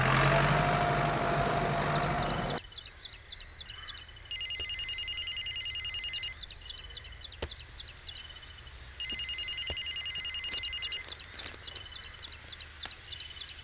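A telephone rings in a steady pattern of repeated electronic trills, with a few pauses between rings, while an engine idles low in the background.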